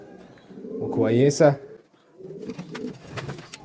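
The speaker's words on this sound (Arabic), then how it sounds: "والله حمام زي الفل" A pigeon coos close by in a home loft, a single soft throaty burst, followed by someone speaking quietly.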